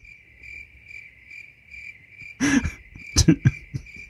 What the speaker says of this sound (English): Do I need to put some cricket sounds there?